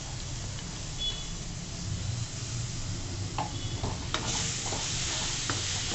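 Puréed tomato gravy cooking in oil in a kadhai for chana masala, a steady close sizzle with stirring scrapes and small bursts of spatter, alone without talk.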